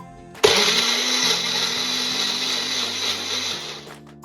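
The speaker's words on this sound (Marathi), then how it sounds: "आता आपण ह्याला बारीक करून घेऊया। आता आपण टोमॅटोची प्युरी करायची।" An electric blender pureeing tomatoes starts abruptly and whirs loudly and steadily for several seconds before cutting off.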